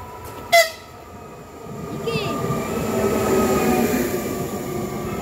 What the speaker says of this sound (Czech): tenhle ten osobní vlak, který tady jezdí na trati jo